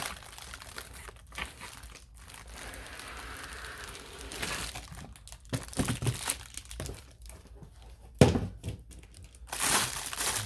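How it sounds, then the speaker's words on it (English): Plastic-packaged organizer trays being unwrapped: close, faint crinkling and crumpling of plastic wrap in irregular bursts, with a few sharper tearing rustles and light thunks of the trays. "unwrap them."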